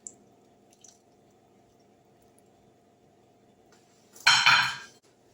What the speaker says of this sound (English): I'm going in with my oil.